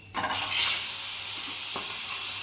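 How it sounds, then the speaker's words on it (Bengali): Pieces of fish frying in hot oil in a home kitchen, a steady close sizzle that swells in the first second and then holds, with a faint scrape or stir midway and no talking. "মাছ ভাজা হয়ে গেছে"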